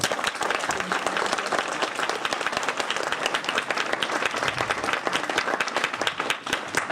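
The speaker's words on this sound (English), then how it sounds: "So once again, a great round of applause for the..." Sustained audience applause fills the hall after a Carnatic Thillana concert performance, a dense, steady wash of many hands clapping at even loudness for the whole stretch.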